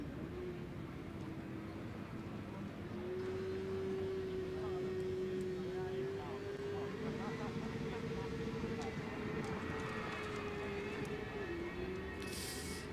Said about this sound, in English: and there we go. Engine running again.